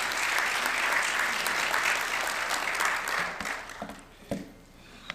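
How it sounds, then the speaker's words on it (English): An audience at a district meeting gives a round of applause, a dense and even wash of clapping. It thins out after about three seconds, leaving a few scattered claps and room noise. "if we could please give a round of applause to Mr."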